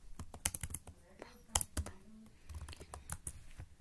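Keys on a computer keyboard clatter in quick irregular bursts as a word is typed, close and fairly quiet, with soft voice sounds mixed in.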